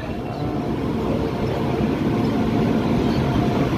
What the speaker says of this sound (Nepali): हाम्रो शताब्दी ट्रेन चाहिँ आइपुगेको छ है।